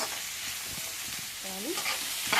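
Fried rice steadily sizzling and simmering in a pan, a continuous close frying hiss with faint clinks and a brief tonal squeak midway.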